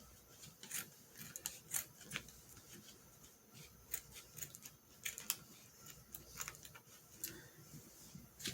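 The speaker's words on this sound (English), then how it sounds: "where I'm cutting the fabric" Fabric is cut with scissors to line a craft project and cover a hot-glued lid. Soft, repeated snipping and rustling continues steadily at low volume, close up and without speech.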